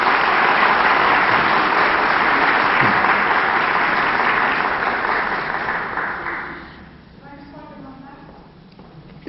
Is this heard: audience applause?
yes